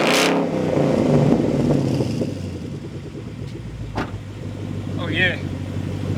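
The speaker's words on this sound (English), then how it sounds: "Give it a little rev quick." A car engine revving, a loud close mechanical roar that swells then settles into a steady drone, with a person speaking briefly over it and a couple of sharp knocks.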